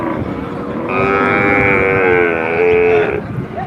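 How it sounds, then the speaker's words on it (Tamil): Cattle at the Manapparai cattle market, a busy livestock fair, give a long, loud, sustained moo that holds for about two seconds over a steady background of market bustle. "பாருங்க கண்ணு கட்டின தூரம் எவ்வளோ மாடு இருக்குன்னு"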